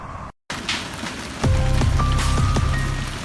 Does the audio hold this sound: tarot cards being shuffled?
no